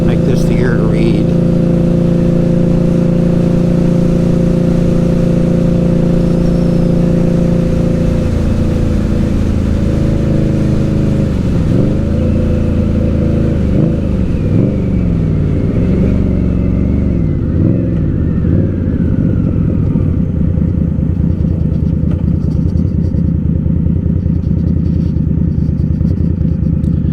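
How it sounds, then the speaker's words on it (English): An Indian Scout Bobber motorcycle cruising at speed on a Florida road, its engine a steady loud rumble throughout, with pitch shifting as it speeds up midway and wind roar underneath. "I love my motorcycle."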